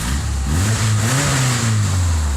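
A 2.5-litre petrol Subaru Legacy Outback automatic revs up from idle, its deep engine note rising and falling through a couple of throttle blips, loud and close.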